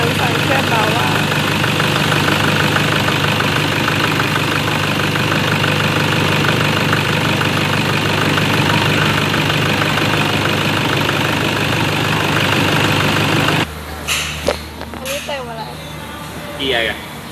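A Toyota Tiger D4D diesel engine idles after an injector cleaning, a loud, steady, close rattling drone for about thirteen seconds before it gives way to quieter noises, with people talking nearby.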